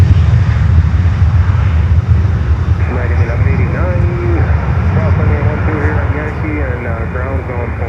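A heavy jet takes off at Miami airport, a loud, continuous engine roar filling the air while people talk excitedly over it.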